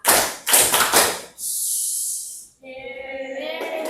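Children in a classroom clap their hands in a quick rhythmic pattern, a few sharp bursts of claps followed by a hissing sound and a short tonal chime.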